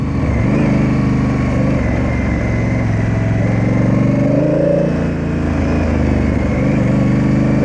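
A Honda Africa Twin big adventure motorcycle's engine rumbles loud and close on rough ground, its steady low drone rising and swelling as the throttle opens while the rear tire spins.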